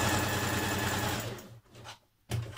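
Sewing machine running a line of gathering stitches along a dress fabric edge, a steady fast whirring hum that slows, pauses briefly, then restarts, close and alone.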